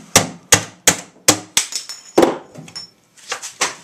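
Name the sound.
door latch being whacked into place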